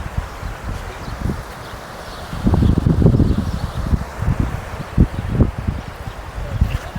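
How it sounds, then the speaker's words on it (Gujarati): Strong wind gusts across a millet field, rustling the plants in uneven waves of broad noise that swell and fade, with buffeting on the microphone. "બધી ઉડાડી દે એટલો પવન આવી રહ્યો છે"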